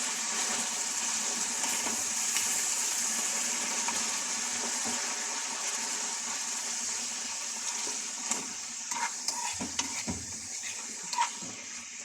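Chili peppers frying in a pan for a Moroccan hot sauce, giving a steady bright hiss that runs the whole time, with a few louder crackles and clatters toward the end.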